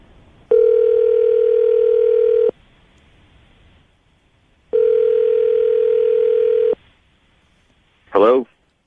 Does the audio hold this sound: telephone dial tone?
yes